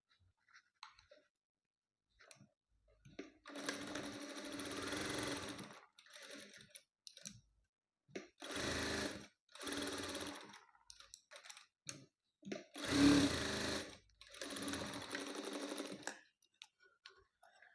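A sewing machine stitching fabric for a hanging tassel runs in several separate bursts of rapid mechanical whirring and ticking, with short quiet pauses between runs, close and clear with no speech.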